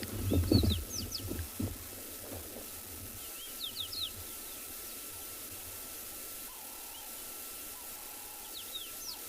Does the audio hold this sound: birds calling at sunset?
yes